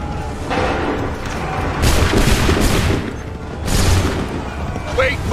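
Musket volleys fire in Assassin's Creed 3 as several broad, loud bursts of gunfire crack and boom in quick sequence, each swelling then fading into battle noise, with shouted commands around them.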